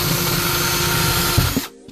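A power drill whines steadily and loudly while deliberately stripping a screw head, a continuous high-pitched grinding that cuts out abruptly near the end, leaving near-silence.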